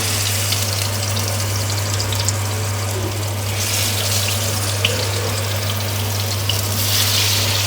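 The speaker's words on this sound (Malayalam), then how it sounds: "ഞാൻ ചിക്കൻ ഇടുവാണ് കേട്ടോ വറക്കാനായിട്ട്" Chicken pieces fry in hot oil with a steady, dense sizzle and crackle, loud and close, under a constant low hum.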